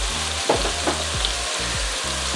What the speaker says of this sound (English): I'm going to stir this in now.